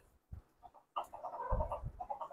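A Kadaknath black chicken clucks in a few short, soft bursts at close range, with quiet gaps between the calls and a low thump underneath.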